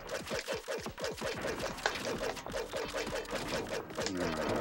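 Rapid bursts of electronic weapon fire rattle in the Spider-Man plug-and-play video game, a fast repeating stream of sharp shots with three-way fire, loud and continuous.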